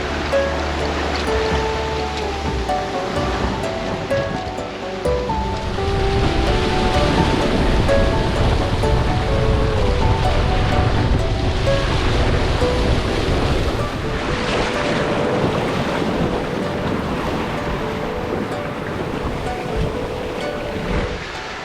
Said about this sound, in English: Suddenly got 16-17 knots of wind, heeling right over.